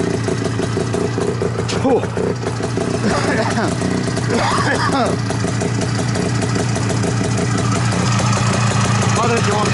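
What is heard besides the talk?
motorcycle engine idling after starting in minus 20 cold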